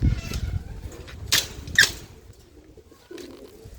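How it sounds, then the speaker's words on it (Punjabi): Domestic racing pigeons at a loft after a day of flying, with soft low cooing under a few sharp bursts of wing flapping and rustling nearby. "ਇਹ ਕਾਫੀ ਕਬੂਤਰ ਜਿਹੜੇ ਆਪਣੇ ਬਾਜ਼ੀਆਂ ਉੱਡੇ ਨੇ ਜੀ"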